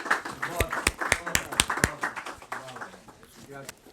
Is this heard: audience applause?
yes